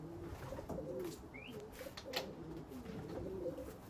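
Young racing pigeons coo softly near a loft, with low rounded calls repeating under light background noise and a brief thin chirp.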